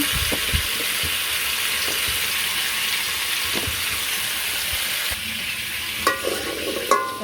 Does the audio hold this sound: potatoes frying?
yes